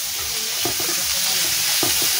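Onion, garlic and shrimp paste frying in a hot pan in a rural kitchen, a loud, steady sizzle right up close with scraping stirring strokes coming through it, and no one talking.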